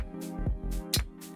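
Clap sound from an Elektron Syntakt drum machine, a few bright, snappy hand-clap hits spaced in a quick rhythm over a low pitched synth bed and descending tonal blips, moderately quiet and close.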